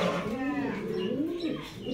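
A pair of GNS racing pigeons at a breeder's farm coo in a low, rolling drone that rises and falls, close and fairly loud, with faint voices in the background.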